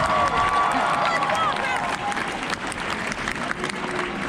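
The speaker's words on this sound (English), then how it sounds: "as you go back to your seats, guys, all this applause is for you." Applause from an audience at a SeaWorld Orlando game show, cheering the children returning to their seats; dense clapping with crowd noise, loudest at first and then slightly softer, with a bit of background chatter.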